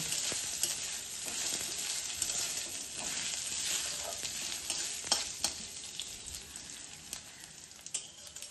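Radhuni seeds and ginger tempering sizzle steadily in hot oil for Bengali shukto, a dense crackling fry with small pops and occasional stirring taps throughout, no voices.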